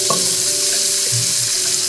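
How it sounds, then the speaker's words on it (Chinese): Onions frying in a hot pan just used to sear chicken, a steady loud sizzle with occasional stirring scrapes close by, no talking. "鸡拿出去以后，我们开始炒菜，先把洋葱炒香"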